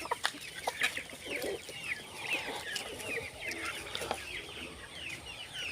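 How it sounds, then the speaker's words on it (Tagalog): Several Rhode Island Red chickens cluck and chatter in soft, overlapping calls, with a few sharper squawks at moderate distance over a faint background hum. "Kani mga kuha ni mga Rhode Island."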